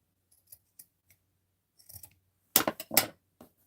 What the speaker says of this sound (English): Cut it there. And come on. Cut it here.